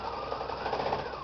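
A sewing machine back stitches a seam while making a microwave bowl holder, a close, continuous buzzing whir that runs throughout the short moment.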